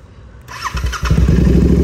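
A Royal Enfield Interceptor 650 with an altered exhaust starts up close by, a short starter whir followed by the engine catching into a loud, deep, throbbing burble.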